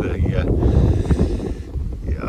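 Wind buffeting a microphone beside a carp fishing lake, a loud continuous low rumble with gusty swells, with a voice faintly mixed in beneath.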